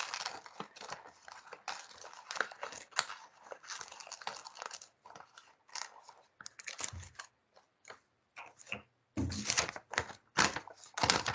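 Paper being cut into curved shapes from a country garden image for a DIY pocket zine, heard as close, irregular crisp snips and crinkles coming in bursts with short pauses.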